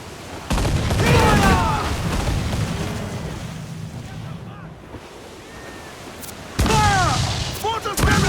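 Mortar volleys fired from a pirate ship in Assassin's Creed IV Black Flag, heavy booming blasts at the start and again near the end, with crashing ocean surf and wind between them and shouted commands from the crew.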